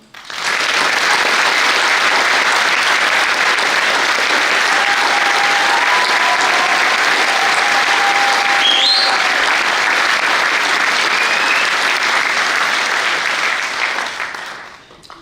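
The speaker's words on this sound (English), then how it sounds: "Please join me in applauding them." A graduation ceremony audience applauds the teaching staff with loud, dense, steady clapping that fills the hall for about fourteen seconds before tapering off at the end.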